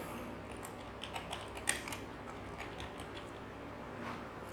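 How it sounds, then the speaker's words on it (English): Light typing on a computer keyboard, soft quiet key clicks at an uneven pace over a faint background hum, with no voices. "Here I will write the text."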